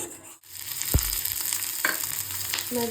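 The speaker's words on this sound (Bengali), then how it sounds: "কড়াইতে দিয়ে দিয়েছি বাদাম আর বাদাম ভাজা শুরু হয়ে গেছে একটু ঘিও দিয়েছিলাম" Steady close sizzling of peanuts frying in ghee with occasional scraping stirs in a wok, no voices.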